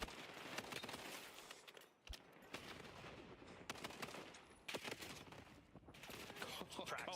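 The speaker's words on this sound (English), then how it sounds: "Practicing the pistol shot" Rapid pistol shots in a Call of Duty match, crisp bursts of gunfire snapping in quick irregular volleys over a few seconds, with brief pauses between strings.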